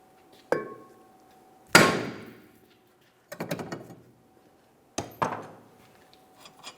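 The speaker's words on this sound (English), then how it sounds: "we want to carefully bonk just on this area of the rotor" Hammer blows on a rusted rear brake rotor of a 2002-2006 Honda CR-V, struck to free it from the hub: several sharp metallic bonks with ringing decay, in separated single and paired hits with quiet gaps between them.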